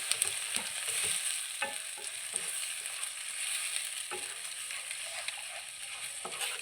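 Mutton blood frying with golden onions in a pan, stirred repeatedly: a quiet, continuous sizzle broken by soft scraping and tapping strokes of the spoon at irregular intervals, close by and with no speech.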